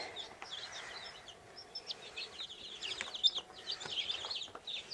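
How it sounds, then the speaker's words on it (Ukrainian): Newly hatched Cochin chicks cheep in a steady chorus of short, high peeps, close and fairly quiet, with brief louder bursts among the continuous chirping under a brooding hen. "Такі маленькі курчатка"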